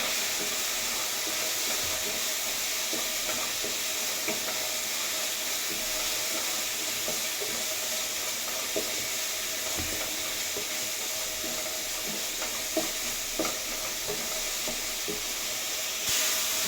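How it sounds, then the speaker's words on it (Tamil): Masala and softened tomatoes sizzle and crackle steadily in a pan, a continuous close frying hiss with small pops and stirring scrapes throughout, no voices. "மசாலா பச்சை வாசம் போற அளவுக்கு வதக்கிக்கலாம்."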